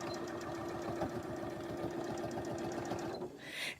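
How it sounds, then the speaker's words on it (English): A home sewing machine stitches a back tack at the top of a pillowcase seam, a steady rapid mechanical whirr close by and fairly loud, stopping near the end. "I am going to back tack at the very top as well. Because I want to make sure that this does not come undone."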